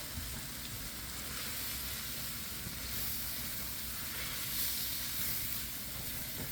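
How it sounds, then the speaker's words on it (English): Broth poured into a hot shepherd's pie pan sets off a steady, loud sizzle with a hissing steam wash that holds at an even level, with no voices. "And then we're going to start adding in our broth."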